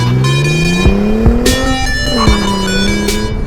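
A car engine revs and pulls away up close, its steady drone rising in pitch through several gear changes, loud and continuous with no talking.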